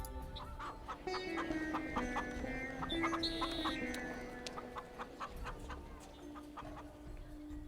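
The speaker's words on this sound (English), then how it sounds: "I love the chicken noises in the background." Chickens cluck steadily in the background throughout, a soft, fairly distant farmyard chatter of several birds with occasional higher calls and no talk over it.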